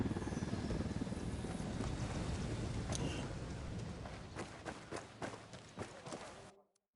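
A helicopter in the video game Ghost Recon Wildlands gives a steady, loud rotor roar that slowly fades, with scattered sharp knocks toward the end before cutting out.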